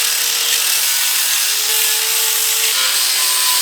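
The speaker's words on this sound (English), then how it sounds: "I'm going to take the flap disc to it and kind of smooth it out a little bit" A flap disc grinds down a rough weld on a Mustang seat, giving a loud, unbroken abrasive hiss with a faint steady whine running through it for the whole stretch.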